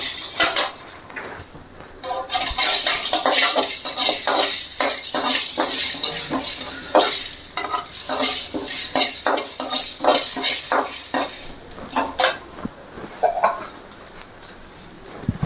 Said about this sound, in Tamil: நம்ம இதில் இந்த மிளகு, சோம்பு, ஜீரகம் இது எல்லாத்தையும் நல்லா வறுத்துக்கலாம்.